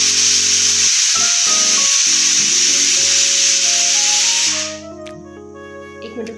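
A pressure cooker vents steam in a loud, continuous hiss that cuts off abruptly near the end, leaving quieter tonal background sounds.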